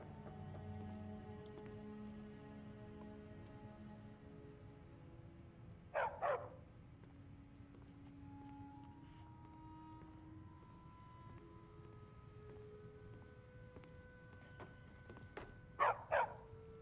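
Dog barking in the video game Skyrim, heard as two short separate bursts of loud barks over a steady background hum with faint game tones.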